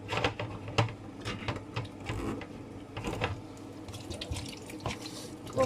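Mushrooms draining in a pan for a quick carbonara, with a steady running-water wash and scattered drips and splashes close by at moderate level, mostly free of talk.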